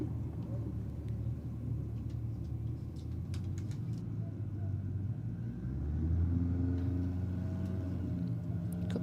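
Drag racing cars at Sydney Dragway, a Datsun lined up against a Falcon, send a steady low engine rumble that swells near the end. Loud crowd chatter and talk run over it the whole time.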